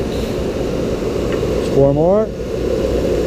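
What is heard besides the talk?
thickness planer gang planing multiple wooden boards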